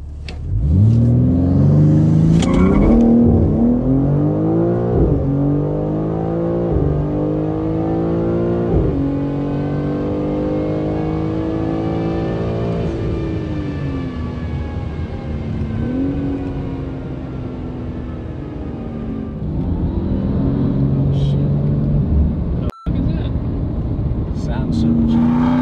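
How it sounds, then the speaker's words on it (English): Supercharged Ram TRX truck engine pulling hard on a street, a loud steady drone with rising harmonic pitch sweeps across the gears, dipping briefly before swelling again near the end. "I heard a supercharger."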